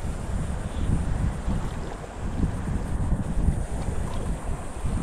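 Strong high-tide sea waves at Malvan beach, a heavy, continuous roar and rush of surf buffeted by loud wind noise across the microphone, with no voices.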